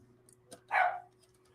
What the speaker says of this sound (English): We have dogs making an appearance or making noise.